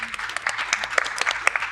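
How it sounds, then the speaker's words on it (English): Audience applause for a recruitment-industry panel on stage, dense clapping with sharp individual claps standing out, steady and fairly close throughout. "Let's have another round of applause."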